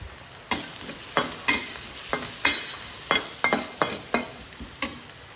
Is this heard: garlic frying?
yes